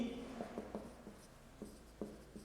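Handwriting on a board or paper during a nucleic acid lesson, quick scratchy strokes and taps arriving in short irregular bursts, close and fairly quiet.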